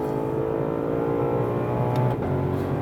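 An 800-horsepower Ford Mustang GTD drives hard on a racetrack, its engine a loud, continuous roar heard close up from inside the car, the pitch holding steady with a slight shift near the end.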